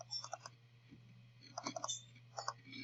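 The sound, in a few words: computer mouse clicking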